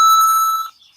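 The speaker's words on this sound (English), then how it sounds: "I'm gonna warn you what it is when the timer goes off. Coin tokens, so it'll sound like this." Super Mario coin-token chime used as a timer alarm, a bright, loud electronic tone that sustains briefly and then cuts off and fades.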